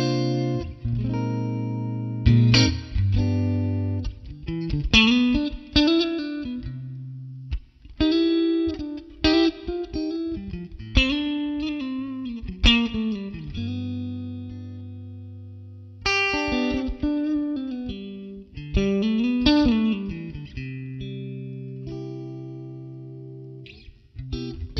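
A Fender Stratocaster plays through a Helix modeller on a Fender Twin amp preset with spring reverb, producing clean, bright blues phrases of picked single notes and chords with bends, ringing sustain and short gaps between licks.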